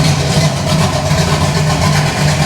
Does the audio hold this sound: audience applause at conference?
no